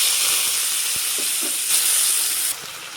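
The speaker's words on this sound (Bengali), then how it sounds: "এখন এই পাঁচফোড়ন সম্বাদ দিয়ে আলু আর পেস্টটা একটু ভেজে নিব।" Potatoes and spice paste fry in oil with five-spice, giving a loud, dense sizzling hiss with a few soft stirring taps, easing slightly in the final half second.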